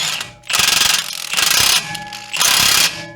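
Impact wrench tightening a bolt on a 2005 Toyota Camry strut, three loud rattling bursts separated by short pauses, close up with no talking.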